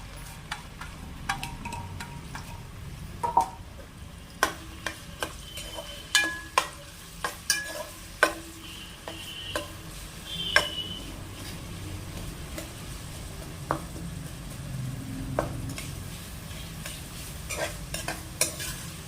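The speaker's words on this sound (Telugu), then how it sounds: "బాగా మగ్గేదాకా మనం వేయించుకోవాలండి" Chopped onions and green chillies with bay leaves frying in a pan, a steady sizzle with frequent scraping clicks of a spatula stirring at an irregular pace.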